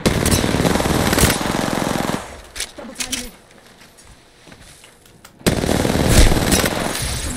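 Rapid automatic gunfire from a shooter video game, loud and close, in two long bursts separated by a quieter gap with scattered clicks and a voice.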